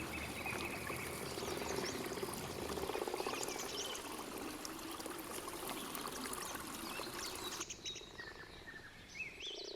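Common frogs at a forest pond: faint, scattered croaks and chirps over a steady trickle of running water, with several calls overlapping in a quiet outdoor setting.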